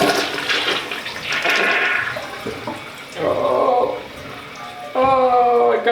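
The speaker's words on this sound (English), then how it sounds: "Flush number 3." A DXV Equility Extreme toilet flushes a clogged load of toilet paper, with a gurgling rush of water surging in several waves and a tank refilling with a whine at the end, recorded close up while a voice speaks briefly.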